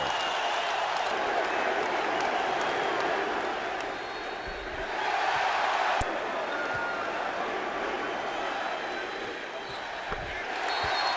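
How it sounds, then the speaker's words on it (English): Basketball arena crowd giving a standing ovation during a 2001 NBA playoff game between the Sixers and Raptors, a sustained roar of cheering and applause that swells slightly midway, with a commentator's voice faintly over it. "Standing ovation, and listen to the crowd saluting the Sixers"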